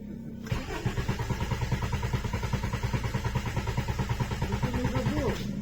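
A 1977 Honda Accord engine cranks and catches, then settles into a steady idle with even, rhythmic firing pulses, heard up close with no talking.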